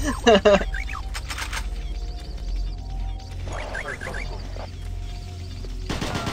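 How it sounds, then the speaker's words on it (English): Gunfire in Doom 3 on Xbox 360, with quick bursts of rapid shots, loudest at the start and again near the end, over a low ambient rumble. Someone talks and laughs between the bursts. "I should probably shoot."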